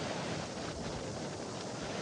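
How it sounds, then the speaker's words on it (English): A raging river of rushing water swollen by a rainstorm, coming off a mountain along the Appalachian Trail, roars as a steady, dense, loud wash with no breaks and no voices. "So I hear like a raging river."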